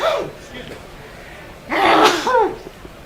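One loud, close human sneeze bursts out near the middle after a short intake of breath, with a quieter sneezy gasp at the start, in a cricket broadcast setting at a T20 international in Gros Islet, St Lucia.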